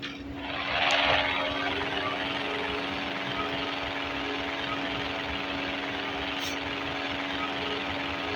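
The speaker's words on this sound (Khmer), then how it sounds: "យន្តហោះនេះវាតូចយើងស្រួលធ្វើដំណើរ" A small airplane engine drones steadily and close by, a constant even hum that swells briefly near the start and then holds level.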